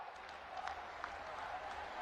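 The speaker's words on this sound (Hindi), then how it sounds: "मैं चाहूंगी सभी के लिए आप एक बार जोरदार तालियां बजा दें।" Faint, steady applause from an audience at a live government event in Uttar Pradesh marking new medical colleges, a soft continuous patter of clapping heard at a distance for about two seconds.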